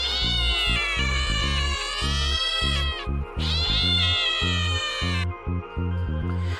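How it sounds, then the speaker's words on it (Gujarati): A domestic cat gives a series of loud, drawn-out meows, close and clear, in two long calls followed by a shorter one, with no other sounds around them. "આ છે બિલાડી"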